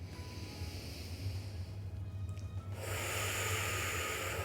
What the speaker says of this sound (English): Inhale through the nose. Exhale through pursed lips.